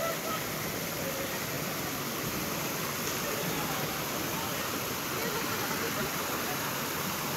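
Water running from a cave spring at a natural pool in Tanay, Rizal, a dense steady rushing close by with no pauses.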